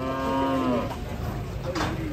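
A cow loaded on a truck lets out a long, close, loud moo that fades after under a second, followed by restless noise and a fainter second low call.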